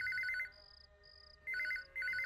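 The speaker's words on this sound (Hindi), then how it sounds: "फोन बज ही गया।" A telephone rings in a Hindi drama scene set around a cable operator and police, giving two-tone electronic trill bursts that start, pause with a single sustained tone, then resume in two more bursts, heard clearly with no talk.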